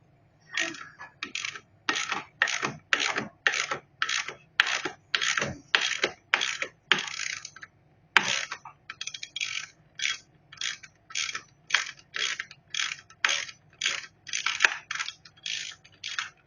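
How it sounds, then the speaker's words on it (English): Ratchet with a half-inch socket backing out counterweight bolts on a Maytag Whirlpool front-load washer: rapid metallic clicking in repeated bursts, nearly thirty strokes with brief pauses, close and clear. "Use half-inch socket to take these bolts out."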